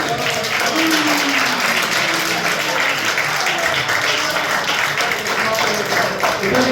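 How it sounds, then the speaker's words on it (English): A crowd at a darts event gives a loud, dense round of applause that holds steady throughout, with voices shouting and talking underneath. "Can we just have a round of applause for Top Soccer, please?"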